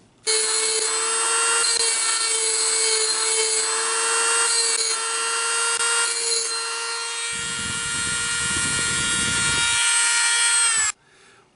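A loud, continuous power-tool whine with a rough grinding edge runs steadily as a grinding stone smooths wood, then cuts off abruptly near the end.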